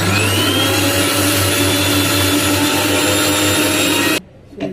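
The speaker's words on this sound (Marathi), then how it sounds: "वाटून घेऊया." Electric mixer grinding coconut masala with turmeric and water, a loud, steady motor whir with a constant low hum that runs without a break, then cuts off abruptly near the end, leaving brief quiet.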